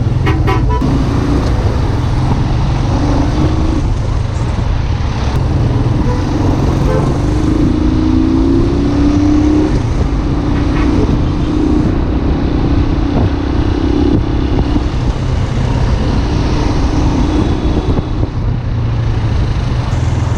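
A car drives on a city road in Alexandria, with a loud, continuous engine rumble and road noise close by and passing traffic around it.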